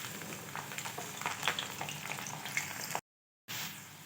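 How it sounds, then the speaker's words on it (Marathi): Potato slices deep-frying in oil for crunchy finger chips, a continuous soft bubbling sizzle with faint crackles, quiet and close, cut by a brief silent gap near the end. "अशा प्रकारे आपल्याला इथे हे काप तळून घ्यायचे आहेत।"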